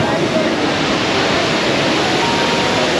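Constant rushing roar of waterfalls at the Grizzly River Run raft ride in Disney California Adventure, a loud, steady broadband wash of falling water close by with no breaks.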